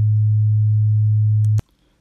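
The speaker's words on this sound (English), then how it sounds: "you will hear only on one of your channel a sine wave, which is being generated by this module." A steady, pure sine tone from a synthesizer module hums loudly for about a second and a half, then cuts off abruptly with a small click, leaving near silence.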